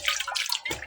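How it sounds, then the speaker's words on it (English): Rainwater splashing as a cooking pot is rinsed: brief, bright watery sloshes and trickles in two or three quick bursts, close and moderately loud, with no talking. "So I will use rainwater. So I just rinse."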